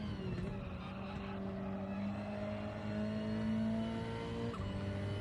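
A sluggish race car engine in Gran Turismo 7 drones steadily with a rising whine as it slowly gains revs, a brief break near the end, loud and continuous with no talking.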